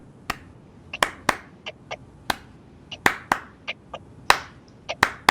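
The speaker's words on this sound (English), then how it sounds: "that was not needed, the clapping" Sharp, sparse hand claps ring out one at a time in an uneven rhythm, about seventeen crisp smacks close by, with quiet between them and no talking.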